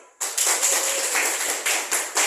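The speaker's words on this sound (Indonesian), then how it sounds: "Tepuk tangan semua dulu." A classroom of pupils claps together after a lesson, steady broadband applause with a few sharper bursts, loud and close with no talking.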